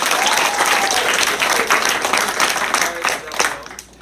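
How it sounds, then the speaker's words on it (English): A room of people at a group meeting claps to welcome a new staff member, brisk, dense applause with some voices mixed in, tapering off toward the end. "Everybody give her applause."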